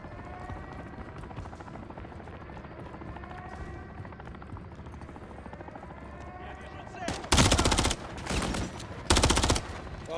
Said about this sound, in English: Coney armored helo is overhead.